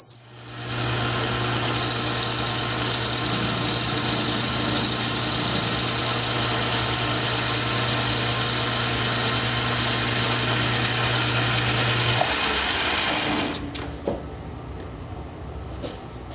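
Lathe turning 1045 steel with a high-speed steel tool at a 20-thousandths cut gives a steady mechanical hum and cutting noise for about twelve seconds, then winds down into quieter shop sounds.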